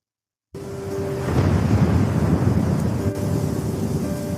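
Cartoon thunderstorm with heavy rain and gusting wind, a steady loud roar that swells after the opening silence and rumbles on without let-up, no voices over it.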